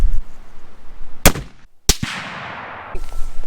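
A rifle is fired twice while being sighted in for deer season: two sharp, loud cracks about half a second apart, the second followed by a rushing, fading tail, with quiet outdoor ambience between.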